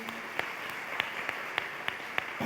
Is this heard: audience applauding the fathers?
yes